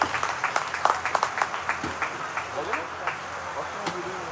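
An audience at a school reunion gathering gives a burst of applause, close and lively clapping that gradually thins out over a few seconds.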